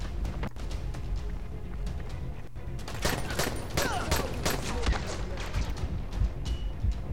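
Gunfire from a gun in the video game Dying Light, rapid sharp cracks repeating over dense, loud game noise, with no pauses throughout.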